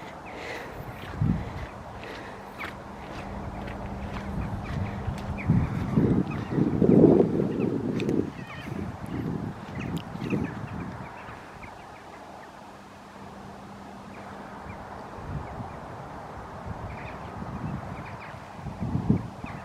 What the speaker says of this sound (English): Them lovely birds.